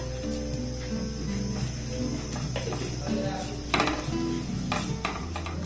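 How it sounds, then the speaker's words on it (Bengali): A spoon scrapes and clinks around a bowl as sugar is mixed into crushed biscuit powder, with steady close stirring and a louder clatter near the end over a background hum. "চিনি আর বিস্কিটের গুঁড়োটাকে আমি খুব ভালোভাবে দেখুন মিক্সড করে নিয়েছি"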